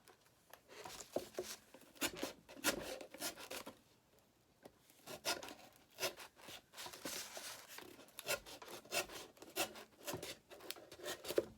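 A craft knife blade drags through a cardboard salt box top in repeated rasping strokes, with short pauses between cuts; close and steady, no talking.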